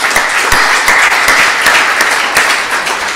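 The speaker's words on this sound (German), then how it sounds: "das verlangt einen Applaus" An indoor audience at an event in Berlin breaks into loud, close applause, with many hands clapping in a full, continuous burst and no voices over it.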